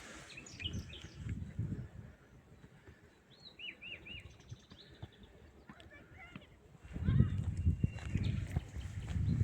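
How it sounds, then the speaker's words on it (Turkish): Birds chirp and trill outdoors in the green countryside of Evrencik village, Kırklareli, short repeated calls standing out clearly, while low rustling and muffled movement come and go beneath them. "Yeşil alan kuş sesi."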